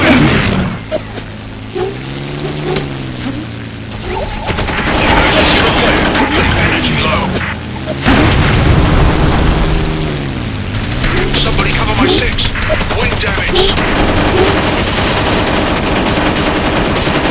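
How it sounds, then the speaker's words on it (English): Heavy sustained gunfire, loud and close, hammers on in long bursts across the whole stretch beside a wailing siren-like tone and mechanical roar. "Mayday! Mayday! Taking heavy fire!"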